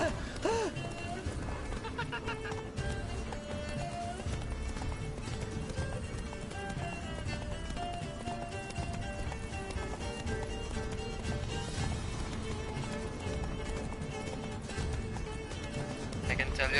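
The horse Roach galloping in The Witcher 3: Blood and Wine, a steady clip-clop of hooves running under game sounds and music while a player talks over it.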